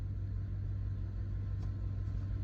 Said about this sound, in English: Would help if I put it in drive instead of reverse, backing out my driveway.